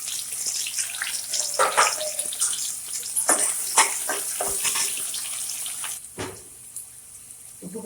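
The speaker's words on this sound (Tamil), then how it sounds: "இதில் நம்ம வெங்காயத்தை போட்டுருவோம். நல்லா ஃப்ரை பண்ணிக்கலாம்." Onions dropped into hot oil for a spicy chicken dish give a continuous close hiss with scattered clattering spikes.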